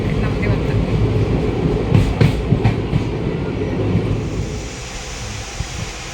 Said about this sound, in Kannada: ದಿನದ ಮೇಲೆ ಟ್ರೈನ್ ಜರ್ನಿ